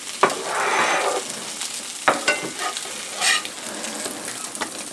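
A mac and cheese pancake frying in a pan, a steady sizzle with sharp scrapes and clatters of a spatula or plate at intervals, close and fairly loud.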